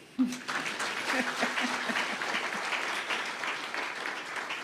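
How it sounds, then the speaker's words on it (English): Audience clapping at an official event at KICC welcoming the Deputy President, a sustained, fairly even round of applause from a large crowd with a brief voice and some murmuring at the start. "You may clap also."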